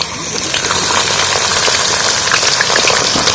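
Garlic, black pepper and cloves frying in oil for a homemade joint-pain remedy, a loud, steady, crackling sizzle close up that holds throughout, with fine popping spatters.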